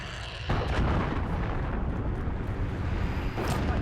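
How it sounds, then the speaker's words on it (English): An enemy cruise missile strikes in a Call of Duty Modern Warfare match, a sudden loud blast followed by a long roaring rumble that fades, then another burst near the end. "Enemy cruise missile incoming."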